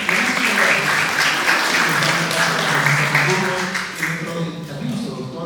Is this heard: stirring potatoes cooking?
no